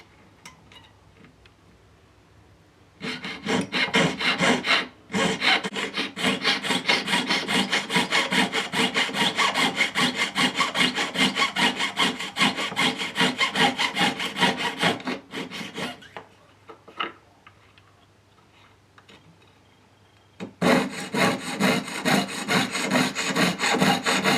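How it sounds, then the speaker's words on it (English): Hand saw cutting a wedge-shaped gap out of metal ring wire: steady, close rasping back-and-forth strokes in long runs, with a short pause near five seconds and a longer break before sawing resumes near the end. "so now I'm going to have to cut that out to get the wire to meet"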